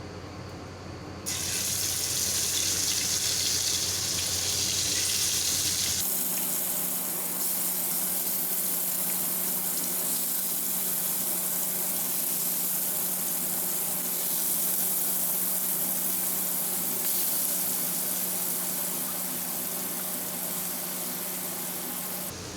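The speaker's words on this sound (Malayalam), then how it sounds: "ഇനി നമുക്ക് ഇതിനകത്തോട്ട് മാരിനേറ്റ് ചെയ്ത ചിക്കനെ ഓരോന്നായിട്ട് ഇട്ട് കൊടുക്കാം" Marinated chicken shallow frying in hot oil in a pan for butter chicken, a loud continuous hissing sizzle that jumps in strength after a few seconds and holds steady, with no talk.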